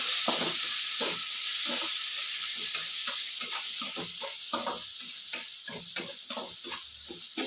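Roasted peanuts tipped into a hot pan of chitranna seasoning with fried bottle gourd, giving a steady close sizzle and hiss with irregular stirring scrapes throughout, no talking.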